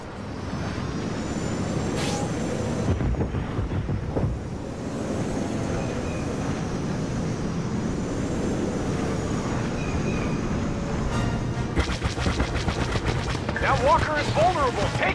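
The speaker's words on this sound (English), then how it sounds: "Airstrike incoming." An airstrike in the video game Star Wars Battlefront, with aircraft roaring overhead and explosions forming a loud, dense rumble, then rapid crackling blasts and gunfire near the end.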